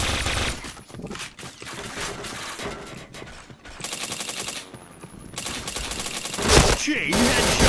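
Dense video game gunfire from Point Blank: rapid bursts of shots and mechanical clacks come in clusters with brief pauses, loud and close throughout.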